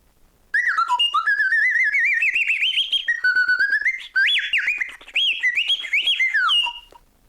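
A modulated whistle imitating a bird gives a bright, sliding warble and trill like a chirping songbird, rising and falling in pitch in a few long phrases with short breaks.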